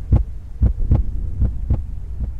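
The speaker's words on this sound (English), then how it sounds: "Sorry about the heartbeat again." Heartbeat sound effect from the survival game Cataclysm: Dark Days Ahead: six deep, steady thumps at about two per second, loud and close, with nothing else over them.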